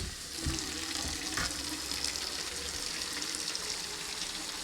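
Hot water runs steadily from a tap into a soapy sink while a reptile aquarium is being cleaned, a continuous close splashing hiss with no talk.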